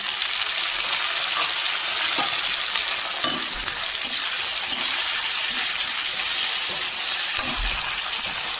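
Onion, chili, garlic and potato sizzle in a hot pan of oil in a winter village kitchen, a steady loud frying hiss with occasional stirring clicks and no talk.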